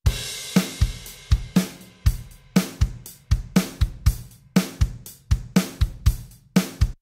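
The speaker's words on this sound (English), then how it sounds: "these kind of drum loops that sound like this" Logic Pro drummer-region drum loops give a steady programmed kit groove, with punchy kick and snare hits and bright cymbals in a repeating pattern, clear and alone.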